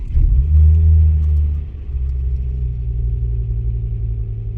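A car engine turns over and catches after its battery is reconnected, a loud close rumble that surges at first, then drops briefly and settles into a steady idle.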